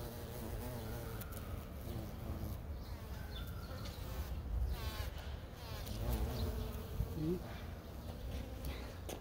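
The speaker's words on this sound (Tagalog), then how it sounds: "May maliit na bubuyog." Small honeybees buzz close by, with flies droning among them, in a continuous rising and falling hum under a voice talking.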